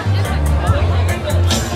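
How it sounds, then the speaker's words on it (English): Marchers gathered for a Freedom Day democracy rally in New Zealand fill the air with close, steady crowd chatter, with overlapping voices and one nearer speaker. "Crowd is really building up"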